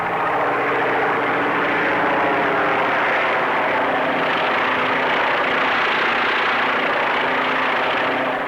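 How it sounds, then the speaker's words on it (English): Propeller airplane engine in a 1954 Technicolor movie stunt-pilot short, a loud, steady, unbroken engine drone close by for the whole stretch. "the whirling propeller, the steel whiplash that can cut a man to pieces in an instant"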